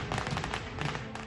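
Diwali fireworks and firecrackers burst in Delhi in rapid crackling volleys of sharp pops, dense and fairly close over a continuous background din.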